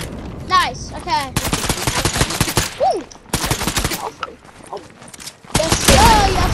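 Gunfire in the video game Fortnite: loud bursts of rapid automatic shots in clusters, with short gaps and a few sharp mechanical sounds between them, while players talk over it.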